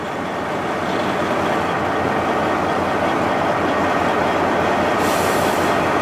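A semi truck's trailer tandems slide back under the trailer, heard as a loud, continuous rumbling grind with a metallic rattling texture that holds steady throughout, with no talk.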